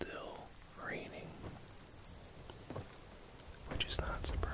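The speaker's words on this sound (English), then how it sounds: "And it's still raining." Rain falling outside Riften in the video game Skyrim, a soft steady patter with scattered drops, heard under quiet whispered talk throughout.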